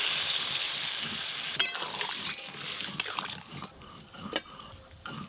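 Potatoes and vegetable stalks cook in a pan as water goes in, with a hissing sizzle that softens into bubbling, along with scattered clinks and stirring knocks.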